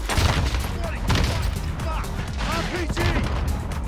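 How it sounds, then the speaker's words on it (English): RPG and grenade explosions in Call of Duty Warzone Zombies, a chaotic run of booms, crashes and gunfire bursts under excited players talking over each other. "RPGs, grenades, holy shit."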